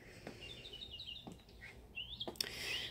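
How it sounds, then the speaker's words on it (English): Several birds chirp and tweet in short, bright bursts at a moderate distance over a steady outdoor background hush. "Hear the birds chirping"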